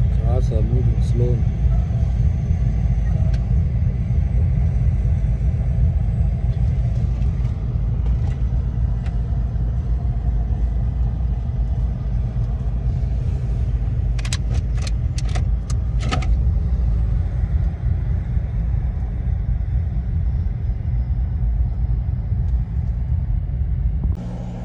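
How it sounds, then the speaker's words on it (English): Slow-moving cars queue at a Canadian border crossing, heard as a steady low rumble of idling and creeping engines from inside a vehicle, with a few faint clicks and rattles partway through. "Cars are moving slow."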